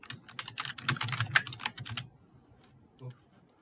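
Fingers type on a computer keyboard to fill in a web form. A quick burst of close, crisp keystrokes runs for about two seconds and then gives way to near-silence, broken by a single later tap.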